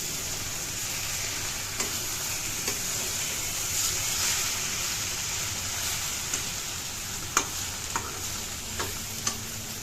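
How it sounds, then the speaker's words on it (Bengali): Cabbage and peas fry in a pan while being stirred, giving a steady sizzle broken by a few sharp scrapes and clicks from the utensil, with no talk. "খুব ভালো করে নেড়ে নেব।"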